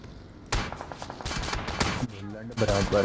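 Gunfire in the battle royale game BGMI, rapid bursts of automatic shots cracking in quick succession, loud and near, with game sounds and a voice mixed in over the shooting.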